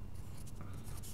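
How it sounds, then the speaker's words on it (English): Handwriting of music note names makes soft, continuous scratchy strokes of pen or pencil on paper, close up, with a steady low background hiss. "the first thing to do is just to write down all the note names"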